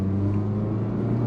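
A Mazda CX-3 in normal drive mode accelerating hard, steady engine drone with a low tonal hum building continuously, heard from inside the cabin with no talking.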